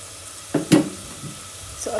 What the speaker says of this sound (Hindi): सो अभी जो है ना वो चिकन हमारा मतलब सॉटे हो चुका है